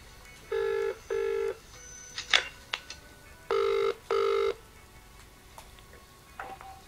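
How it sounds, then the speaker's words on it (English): A telephone rings down the line during a call on FM104 radio: two pairs of electronic double rings sound, separated by clicks and small handling noises, with no speech over them. "Let me just make a quick phone call here."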